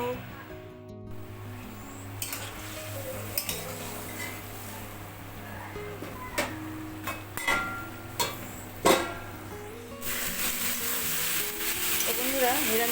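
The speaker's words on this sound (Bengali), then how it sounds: "আমি এখন এই মাংসটা রান্না করছি" Meat cooking in a pan in a home kitchen, a steady sizzle with intermittent clinks and scrapes of utensil against the pan, close and moderately loud throughout.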